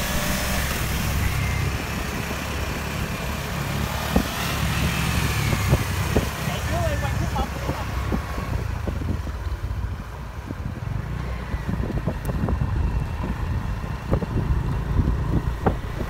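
Kawasaki Ninja 400 ABS with its stock exhaust, heard as a steady, moderately loud engine and road rush with wind noise and scattered sharp ticks throughout, no talking.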